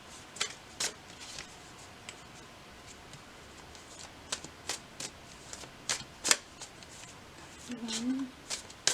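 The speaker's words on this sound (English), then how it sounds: "I'm going to now shuffle some tarot" Tarot cards being shuffled by hand in irregular crisp bursts of riffling and flicking, close and fairly quiet, with a brief voice near the end.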